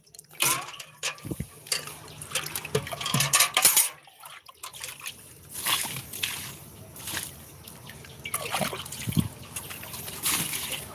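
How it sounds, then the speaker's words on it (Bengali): Liquid organic fertilizer poured onto the soil of a rooftop garden pot, heard as intermittent close splashing and trickling bursts with quieter pauses between pours. "এই তরল সার দিয়ে আপনাকে পুরো মাটি ভিজিয়ে রাখতে হবে।"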